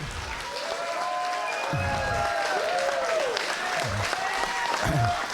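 A crowd at a slap fighting event applauds and cheers for the two contestants, a steady roar of clapping with whoops and shouts rising through it.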